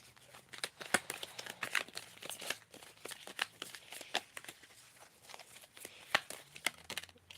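Tarot cards are handled and pulled from a deck, making soft, close papery rustles and crinkles with scattered sharper snaps over several seconds. The sound is fairly quiet and has no talking.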